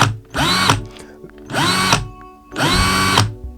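A Bosch GSR professional cordless drill whirs up to speed three times, each short run ending in an abrupt electric-brake stop, with pauses of quiet in between and no talking.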